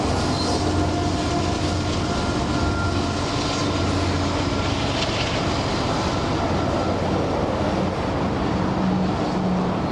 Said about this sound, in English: Union Pacific empty coal train with engine 6007 crosses the long bridge over the main road in Auburn